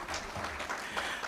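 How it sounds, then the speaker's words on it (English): Audience applause at a digital transformation tech summit in Diani, a steady wash of clapping from a seated crowd that holds at moderate, even loudness throughout. "Give him a good round of applause."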